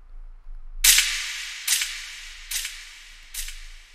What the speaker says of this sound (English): We also got a gunshot at the end, man.